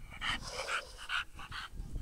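Amber the dog panting on a walk by a fishpond, with quick rhythmic breathy huffs repeating close by at a fairly soft level.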